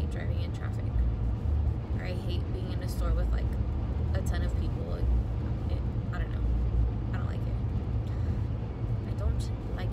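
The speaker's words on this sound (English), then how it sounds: "there's hella traffic right now and it's annoying" Steady road traffic rumbles around a car driving in heavy traffic, a continuous low drone of engines and tyres with occasional louder passing vehicles, lasting throughout with no voices.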